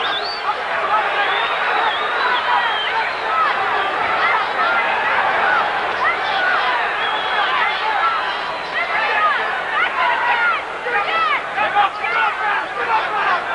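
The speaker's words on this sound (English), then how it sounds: "Boos from the crowd, a largely partisan Mancini crowd" A largely partisan crowd at the Ray Mancini versus Livingstone Bramble boxing match booing loudly and continuously, a dense roar of voices with rising jeers swelling throughout.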